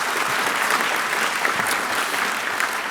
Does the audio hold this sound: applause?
yes